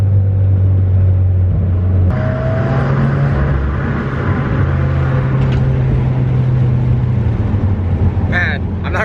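A tuned Subaru WRX with a burble tune driving as the throttle is let off, a loud continuous engine drone and rumble from inside the car that shifts pitch partway through, with faint crackles near the end and no clear pops.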